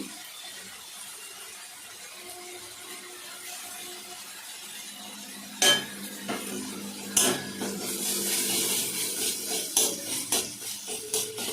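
Ginger-cumin paste being stirred and sautéed in a pan for a vegetarian soybean korma: a quiet sizzle at first, then sharp metal spoon knocks against the pan and busy scraping and clinking.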